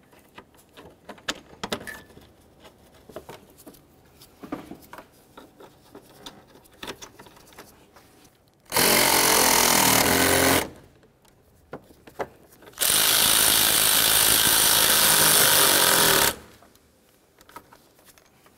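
Power tool tightening the radiator mounting bolts on a 2002-2005 Ford Explorer, heard as two loud sustained bursts, the first about two seconds and the second nearly four, each set among quiet clicks and handling noises.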